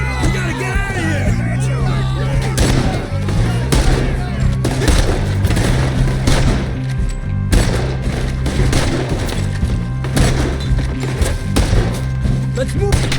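Gunfire rattles through a shootout in the video game Red Dead Redemption 2, dense repeated loud shots and booms over a rumbling low bed for the whole stretch, mixed with shouting game characters.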